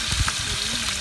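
Tomatoes with a handful of salt sautéing for biryani give a brief, dense, close sizzle with a faint stirring rustle.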